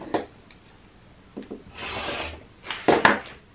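A rotary cutter slices through quilt fabric at close range with a short scraping rasp, surrounded by scattered taps and rubbing sounds of handling the cloth and ruler on a cutting mat.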